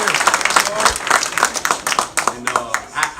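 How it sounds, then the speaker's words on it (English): A crowd claps for a student on early signing day at Highland Springs High School, steady moderately loud applause in an indoor room with voices mixed in. "Let's give him a round of applause."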